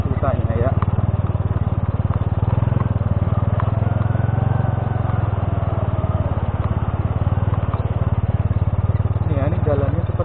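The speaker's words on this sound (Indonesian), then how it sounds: "Kita off-roadan di sini pakai motor mini itu gimana ceritanya ya?" A small Honda Pitung mini motorcycle rides a rocky off-road track, its engine putting in a fast, steady buzz close by while someone talks over it.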